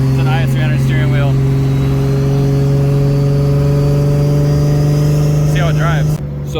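Toyota JZX100 engine droning at a steady high pitch on a drift day, loud and close with a constant tone, with someone talking over it and the engine dropping off at the end.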